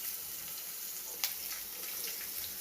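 Chopped onions hit hot ghee in a pan for Mangalore-style chicken ghee roast, giving a steady hissing sizzle with one brief sharp crackle partway through.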